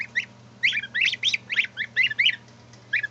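A gander goose gives a quick series of short, nasal honks, about a dozen in rapid bursts, close and clear over a low background hum.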